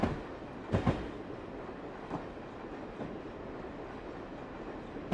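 Diesel train rolling through Alaska in Train Simulator Classic, a steady low rumble of engine and wheels with a couple of brief clanks near the start and another around two seconds, no talking.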